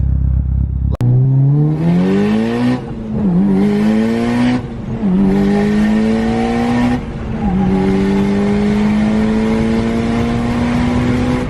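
A fully built Mitsubishi Evo 9 with a 2.3 stroker 4G63 engine revs hard in several rising pulls, each climbing in pitch and then dropping off briefly before the next, loud and close with no talking.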